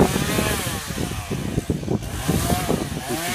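Chainsaw revving hard during a felling cut on a tree, a loud buzzing whine that rises and dips as the bar bites into the wood, steady and close throughout.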